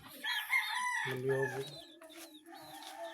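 Backyard chickens kept in Cavite, including a rooster, clucking and crowing close by, with one drawn-out crow through the middle among overlapping hen calls and a brief spoken word.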